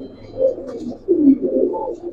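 Giribaz pigeons, a large pair including an all-black hen, cooing in soft low throaty bursts, two rolling phrases close by with a short pause between them, with no talking.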